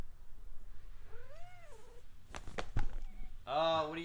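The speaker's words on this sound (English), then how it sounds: "there is a cat right there." A cat gives a rising, wavering meow, then a few sharp taps and a longer, louder yowl near the microphone in a quiet room.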